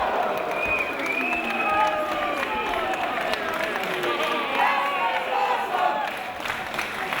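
Crowd at a championship wrestling match cheering, shouting and applauding, a loud, dense roar of voices and clapping with rising yells, while a commentator speaks over it.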